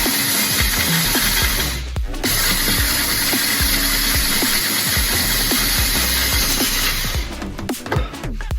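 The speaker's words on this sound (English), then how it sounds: "we gotta drill her out just a little bit more" A battery power drill whines continuously up close with a harsh grinding edge while enlarging a hole in metal, briefly cutting out once before stopping near the end.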